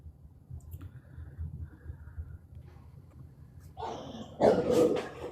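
Dogs react to neighbours' fireworks, starting with a quiet low rumble and then breaking into loud, close barks and growls near the end.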